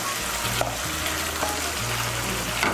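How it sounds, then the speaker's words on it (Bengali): Fried potatoes being stirred into spiced pumpkin in a frying pan, a continuous loud sizzle with scraping stir strokes, steady throughout with no voices. "আলুগুলোকে মিশিয়ে নেব কুমড়োর সঙ্গে।"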